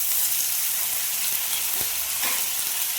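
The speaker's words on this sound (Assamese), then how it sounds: "এইখিনি মই অলপমান সময় ভাজি" Carrot, beetroot and peas fry with turmeric and a chilli in a pan for chutney, giving a steady, close sizzle that holds even throughout, with a couple of faint stirring clicks and no voices.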